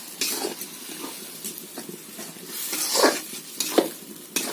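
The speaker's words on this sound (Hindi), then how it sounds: "ये अंडा कढ़ी बनाने के लिए अभी मसाला तैयार कर रहे हैं। देख रहे हैं, वो भी मिट्टी के चूल्हा पर।" Masala for egg curry fries on a clay stove, a soft continuous sizzle broken by scraping stirs and a few louder clinks of the spoon against the pan.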